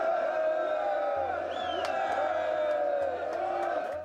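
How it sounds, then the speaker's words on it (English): A large crowd of film extras on a desert set for Gladiator cheers and shouts in rising, overlapping bursts, loud and sustained, with individual voices calling out above the roar. "getting them to cheer and shout, Maximus, Maximus."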